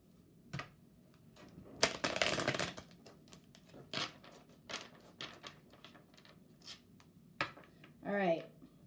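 A tarot deck being shuffled and handled, with a dense burst of riffling cards near the start and scattered soft card taps and slides afterward, close and fairly quiet, ending in a brief rustle.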